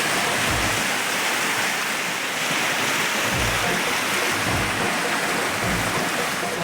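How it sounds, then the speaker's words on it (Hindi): A flooded mountain river in Uttarakhand surges past and breaks over its banks, a loud, steady roar of rushing water heard from some distance, with low rumbling swells rising and falling throughout. "खामोश सी एक नदी बह रही है किनारों को तोड़ती"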